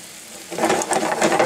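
Scallops start sizzling in a hot pan for a Lobster Fra Diavolo, with a quiet lead-in and then a close, steady crackle as they are rolled around, with no voices.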